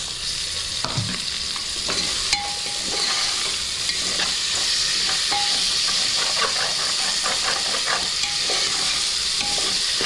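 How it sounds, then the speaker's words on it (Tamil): Tomatoes drop into a pan of sautéed ginger and garlic and fry with a steady, close sizzling hiss, broken by intermittent stirring scrapes and clinks, with no voices. "இஞ்சி பூண்டு வதங்கினதுல நம்ம தக்காளி ஆட் பண்ணிக்கலாம்"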